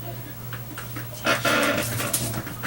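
A dog growls and gives a few short, muffled barks indoors, close by, over a steady low electrical hum, with no speech.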